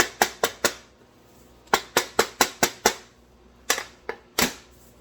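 A macaron tray banged repeatedly on a counter to pop air bubbles: a run of sharp, loud knocks in quick rhythmic bursts, several groups of four or five hits separated by short pauses, with nothing else around them.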